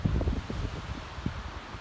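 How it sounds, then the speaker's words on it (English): Wind gusts outdoors during a sudden storm in West Yellowstone, buffeting the microphone with low rumbling bursts and rustling, loud and close throughout. "Ooh, it's windy."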